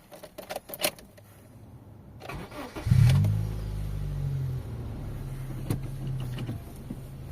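Honda Civic 1.6 VTEC, 81 kW, on a morning after its battery had gone flat: a short crank catches, then the engine settles into a steady idle, loud and close after some clicks and rustling inside the car.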